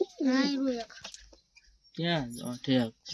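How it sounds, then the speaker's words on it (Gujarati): A pigeon coos close by in a few low, throaty bursts separated by short pauses. "આ છે કબૂતર મિત્રો જો"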